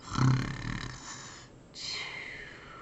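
A voice imitates snoring during a children's book read-aloud, with a couple of rough, drawn-out snores, close and fairly quiet, followed by a softer breathy exhale.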